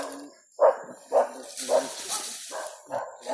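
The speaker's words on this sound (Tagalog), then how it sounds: "Oh, may aso po." A dog barks about six times in quick, uneven bursts at moderate distance, heard outdoors in a rural area with bamboo nearby, with no one talking over it.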